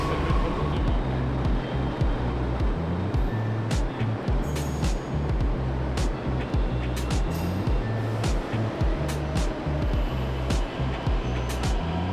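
A water metro boat's engine drones steadily on open water in New Delhi, India, with a low rumble, splashing, and occasional clicks and knocks throughout.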